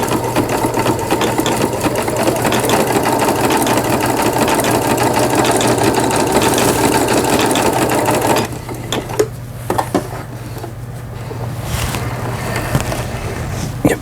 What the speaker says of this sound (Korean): 오버록 바느질, 오버록 스티치까지 이제 정상적으로 박음질이 돼서 나옵니다.